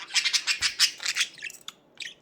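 Pet budgies chirping in their cage, a quick run of bright, close tweets and trills in bursts, then a few sparser calls trailing off.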